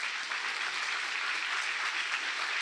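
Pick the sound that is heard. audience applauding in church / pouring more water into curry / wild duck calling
audience applauding in church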